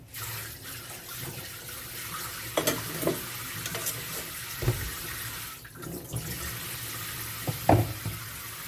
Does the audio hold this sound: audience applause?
no